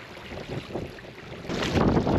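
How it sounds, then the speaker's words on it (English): Wind buffets the microphone on a choppy loch during a packraft trip, a rough low rumbling roar that swells and gusts louder toward the end, no voices. "I'm not too sure how much you'll be able to hear with the wind."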